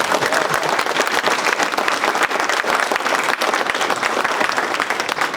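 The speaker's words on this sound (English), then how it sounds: "Can we give Long Her a big round of applause?" Dense audience applause at a fan dinner, loud and sustained clapping from a large crowd throughout, with no pauses.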